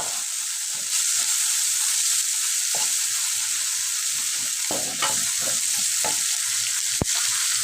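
Yardlong beans fry with dried fish in a pan with little oil, producing a bright, steady sizzle and a few scattered scrapes and clinks of a stirring utensil, ending with one sharp knock.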